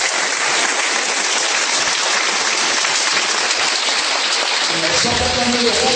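A congregation at a church service bursts into dense, sustained applause, loud and continuous, with voices rising near the end.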